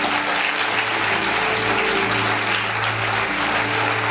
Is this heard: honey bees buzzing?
no